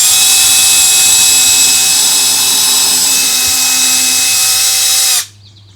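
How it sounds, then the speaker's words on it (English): A power drill bores a pilot hole into a van's metal body for a rivnut, a steady high-pitched whine running loud and close for about five seconds before cutting off abruptly. "drill a pilot hole right in the middle of that Play-Doh marking."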